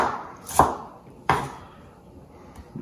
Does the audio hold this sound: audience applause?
no